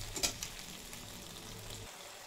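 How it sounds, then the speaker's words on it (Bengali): Chopped tomato and ginger paste frying in a pan, giving a quiet, continuous crackling sizzle with a few faint pops near the start. "দিয়ে দেবো টমেটো কুচি, টমেটো আদা ভালোভাবে একটু ভেজে নেবো।"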